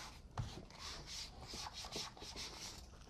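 A cut vinyl stencil being smoothed onto a canvas by hand, giving a steady, close rubbing and scraping sound in repeated strokes, faint and continuous with no voices.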